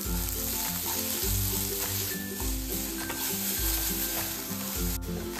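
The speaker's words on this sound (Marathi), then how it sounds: "तोपर्यंत अशा पद्धतीने हा हलवा हलवत राहायचा आहे" Beetroot halwa cooked with sugar over a low flame, stirred continuously, giving a steady, close sizzle and soft scraping, with a rhythmic low hum running throughout and no talk.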